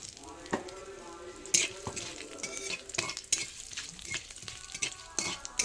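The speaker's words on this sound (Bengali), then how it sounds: "এই যে শুকনো লঙ্কা দিয়েছি, ফোড়ন দিয়েছি, তেজপাতা দিলাম।" Dried red chillies and bay leaves hit hot oil for tempering dal, crackling and sizzling steadily up close while a utensil scrapes and clinks against the pan now and then.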